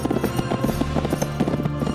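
Several horses clip-clop in a brisk, continuous rhythm of hoofbeats in an animated cartoon set in ancient Gaul, fairly close and loud with no talk.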